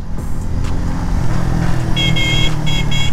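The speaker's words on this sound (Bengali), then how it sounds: "এখন আর হর্ন পিট পিট করতেছে অটো হর্নের মতো" A Honda CBR150R's horn gives a few thin, sputtering beeps near the end, heard over the loud rumble of engines and road noise during a rainy ride.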